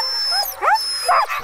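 An Alaskan Husky sled dog gives short, close whimpering yips and rising whines, two bursts over a steady background hum, with no one talking.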